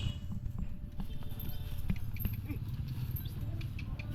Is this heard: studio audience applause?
no